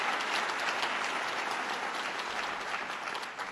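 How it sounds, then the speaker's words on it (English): An audience claps steadily and loudly at a State of the State event on Staten Island, a dense, continuous wash of applause that tapers slightly at the end. "Let's give her another round of applause."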